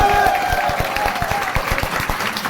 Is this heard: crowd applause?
yes